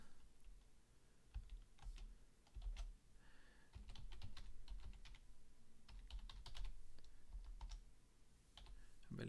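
Irregular bursts of close, crisp keystrokes on a computer keyboard as code is entered, rapid runs of clicks broken by short pauses, quiet and without talk.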